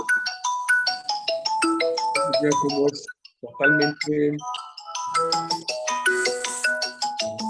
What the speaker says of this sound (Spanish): Oye, está sonando el teléfono, se lo pueden apagar.